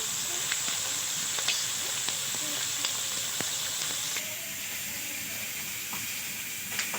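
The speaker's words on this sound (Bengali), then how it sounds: "মাছটা আমি হালকা ভেজে নিয়ে দেবো" Fish fries lightly in hot oil with a steady, close sizzling hiss and occasional soft pops throughout.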